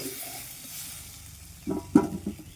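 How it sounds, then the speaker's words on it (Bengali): Soft sizzling of potatoes frying in oil, with a couple of louder stirring scrapes near the end. "আলুগুলোকে নেব ভালো করে ভেজে নেব"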